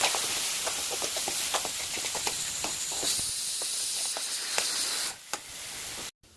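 Tomato seasoned with chilli powder, turmeric, salt, cumin, mustard seeds and fenugreek frying in a pan, giving a constant close hiss dotted with frequent small crackles and pops, with no voices, before a brief dip and cutoff at the end.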